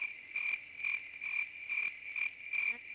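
A cricket sound effect chirps in an even rhythm of about six short pulsed bursts, clear and close, with no talking.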